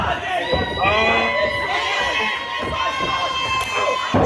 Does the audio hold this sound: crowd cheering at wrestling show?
yes